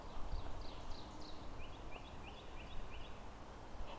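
Birds chirp and call in short repeated bursts across the grounds of Ladd's School and Cemetery in Exeter, Rhode Island, a few higher trills over a steady outdoor hush, moderately distant, with no talking.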